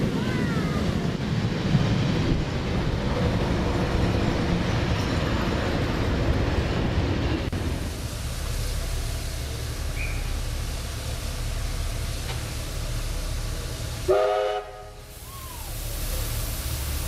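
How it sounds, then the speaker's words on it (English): A locomotive pulls out of Padstow Station in New South Wales with a steady low rumble and wind noise. A short horn blast sounds near the end. "The locomotive is now departing Padstow Station and will now make its trip to Campbelltown"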